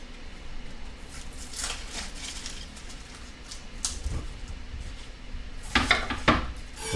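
A sharp kitchen knife slices through an organic onion on a cutting board, with soft scraping and a few crisp knocks of the blade against the board, quiet and close with no talk.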